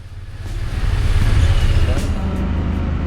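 Honda Pioneer 1000-3 UTV fitted with Kenda Klever XT tires rolling down a gravel road: a loud, steady low engine rumble mixed with crunching, rushing tire noise, continuous throughout.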